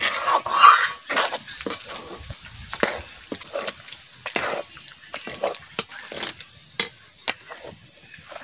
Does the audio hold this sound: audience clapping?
no